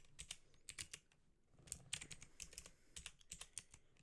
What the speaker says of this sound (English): Now I'm going to type out a command